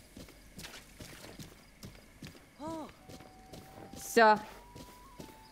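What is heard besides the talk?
horse hooves walking slowly, Zelda Breath of the Wild video game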